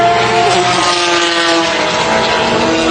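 Race cars at Le Mans, including Porsche GTE Pro, TVR and Toyota entries, drone loudly and steadily in a continuous engine roar with sustained tonal whine and no break.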